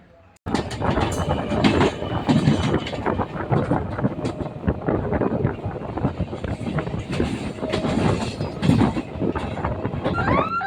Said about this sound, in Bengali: আমাদের ট্রেন এখন চলে যাবে সোজা লাইন ধরে